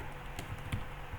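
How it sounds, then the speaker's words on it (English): A few soft, sparse key clicks on a computer keyboard as a name is typed into an email address field, faint and close over a low background hum. "you can just type the name here."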